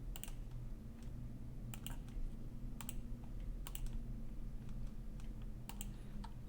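Light typing on a computer keyboard, scattered clusters of quick clicks over a steady low hum, faint and close with no speech.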